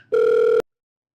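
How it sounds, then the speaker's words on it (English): A phone ringing during a call, one short, loud, steady electronic tone lasting about half a second, then cut to silence. "Oh, it's ringing."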